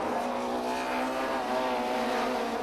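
A Nissan touring car races through during a 1993 British Touring Car Championship round. Its engine makes a loud, sustained droning whine for the whole moment, with no voices heard.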